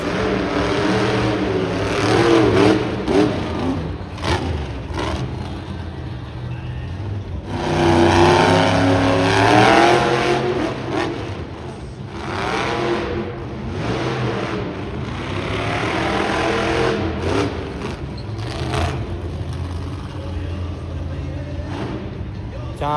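A monster truck engine revs loudly in an arena at a motorsports show in Winnipeg, its roar swelling and falling across the whole stretch, with an announcer talking over it.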